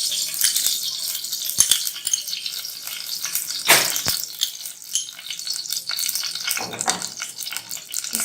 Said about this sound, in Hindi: ये पैन हमने चूल्हे पर रख दिया है। ये हमने इसमें घी ऐड करना है।